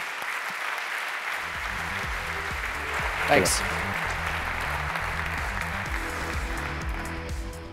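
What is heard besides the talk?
conference audience applause for a speaker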